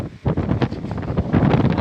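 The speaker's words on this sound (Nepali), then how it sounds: "हावा हुरी चाहिँ यसरी नै चलिरहेको छ यो एरियामा" A strong wind storm under a darkened, rain-threatening sky buffets the microphone with loud, gusting roars that swell and dip close by.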